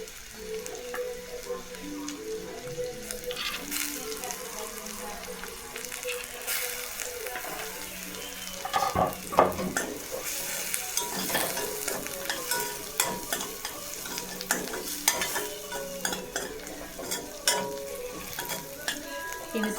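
Thinly sliced carrots stir-fried with fried onions for Maggi soup, a steady sizzle with repeated scraping stirs of a spatula that grow busier and more clattery partway through, close and continuous with no talking.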